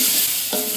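Onions and ground seasoning paste being stirred as they fry in a pan, a steady loud sizzle with scraping strokes of the spoon, growing busier toward the end.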